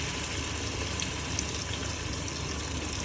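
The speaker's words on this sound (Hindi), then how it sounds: "अब इसमें मैं पानी डालूँगी।" Water pouring into a pot while nihari chicken stew is being cooked in a kitchen: a steady, continuous rushing pour at an even level with no talking.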